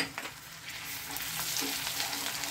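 Amla pickle frying in a pan with spices, ginger paste, Kashmiri red chilli powder, salt and sugar being stirred in, giving a steady close sizzle with soft scraping strokes throughout.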